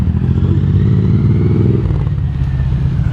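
A motorcycle engine runs loud and close, a steady low rumble with a rising throttle swell, and no talking over it.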